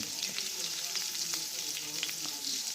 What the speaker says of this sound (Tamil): இதை இதே வதங்க விடுவோம்